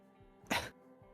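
A single short cough, near and fairly loud, comes from a sick young woman character in a video game, preceded and followed by faint soft noises in a quiet scene.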